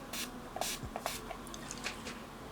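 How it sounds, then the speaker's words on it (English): A makeup finishing setting spray hisses in short bursts, two quick squirts near the start followed by fainter puffs and soft clicks, close and quiet, with no talking. "spray that area from afar, like just give it 2 squirts"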